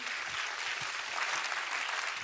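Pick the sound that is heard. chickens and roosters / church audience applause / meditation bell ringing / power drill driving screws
church audience applause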